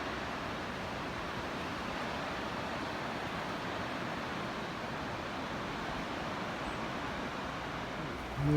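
A steady broadband rush of river water flowing along a trail near Sam's Gap on the Appalachian Trail, continuous and fairly loud, with a brief bump at the very end.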